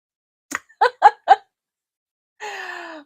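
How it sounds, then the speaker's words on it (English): A woman yawns up close, a drawn-out breathy voiced exhale falling in pitch, after a few short, sharp vocal sounds. "Because then I yawn."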